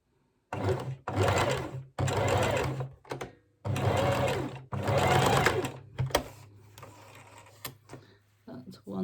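A sewing machine stitches fabric in several close, steady whirring bursts of rapid needle clatter separated by short pauses, with a low motor hum throughout.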